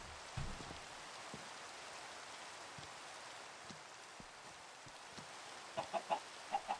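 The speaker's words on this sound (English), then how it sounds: "Hey, many chickens." Chickens in the Minecraft video game give a few short, faint clucks near the end, under a steady rain-like hiss from the game.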